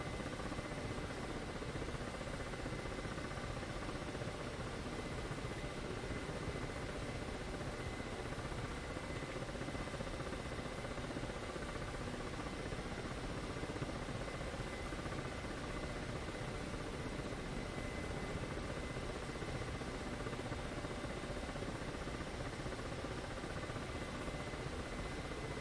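A Ka-50 helicopter in the flight simulator DCS World makes a steady, loud rotor and turbine roar that holds unchanged throughout, with no talk.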